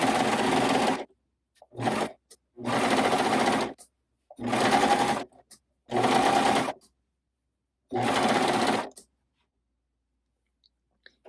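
A coverstitch sewing machine hems fabric in six separate bursts of fast, even mechanical chattering, each about a second long with short silent pauses between, loud and close with no speech.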